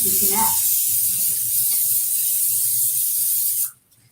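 A steady hiss of olive oil spray running continuously onto cauliflower for a few seconds, then stopping abruptly.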